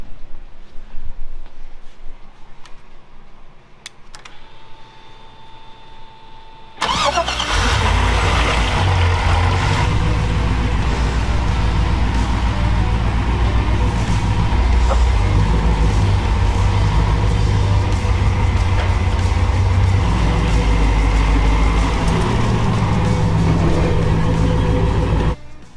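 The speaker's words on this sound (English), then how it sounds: "Okay, fire it up. It's a Chevy, it doesn't just fire up." A Chevy truck engine cranks and catches, then runs with a loud, steady low rumble close by after a quieter stretch of faint background noise.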